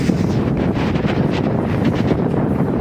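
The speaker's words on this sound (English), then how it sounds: "it was so windy in Benicia" Strong, steady wind blowing in Benicia buffets the microphone with a loud, continuous roar and gusty rumble, unbroken across the whole stretch with no voices.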